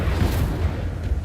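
Incendio fire spell cast in Hogwarts Legacy: deep booming bursts of flame, loud and close, rolling over a short moment with a couple of heavier thumps.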